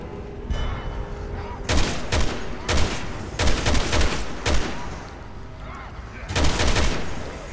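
Bursts of loud gunfire in Resident Evil 6 as zombies are shot, several sharp volleys in quick clusters over a lower background rumble.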